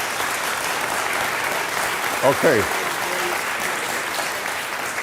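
A crowd at a question-and-answer event breaks into sustained, loud applause, a dense even roar of clapping with one brief voice cutting through midway.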